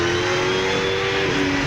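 V8 Supercar Holden Commodore, the number 2 Mobil Holden Racing Team car, racing at Queensland Raceway in 1999, a loud sustained high-revving engine whine close by with a steady pitch throughout.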